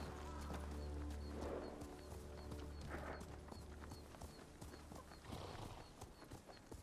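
A horse's hooves in Ghost of Tsushima clip-clop in a steady rhythmic trot, close and clear, with occasional snorts over faint outdoor ambience.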